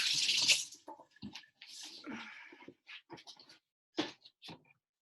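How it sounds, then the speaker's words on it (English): Hands washed under a running tap while making egg tempera paint, brief splashy bursts of water in short irregular spurts with gaps of silence between them. "Washing my hands real quick."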